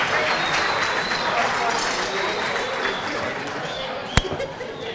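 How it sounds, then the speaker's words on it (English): Guests at a black-tie gala dinner in a hotel event space give a round of applause, a fairly loud wash of clapping that slowly fades, with one sharp knock near the end and some voices underneath. "How about a big round of applause to the Crowne Plaza for the brand new space that they have here."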